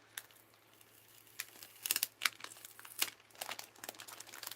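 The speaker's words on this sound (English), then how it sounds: "This is how we unwrap Christmas presents," Paper crinkling and soft tearing as a Christmas present is carefully unwrapped, with irregular bursts of rustle building and easing close by, no talking.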